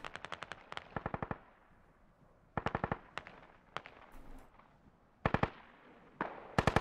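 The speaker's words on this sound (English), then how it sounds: "Your Nightmare has got himself a medium machine gun shooting on some Russian forces here." Medium machine gun fire in a tactical military shooter game, several short bursts of rapid shots spread across the clip, some sharp and near, others softer and more distant, with no talk.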